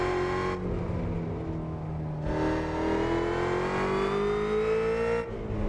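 Car engine revving hard in the Assetto Corsa or BeamNG driving game, a steady loud drone whose pitch climbs through the gears with brief dips at shifts, no talk over it.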